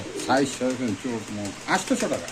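Pigeons coo in soft, throaty repeated calls close by, several overlapping bursts in a short span.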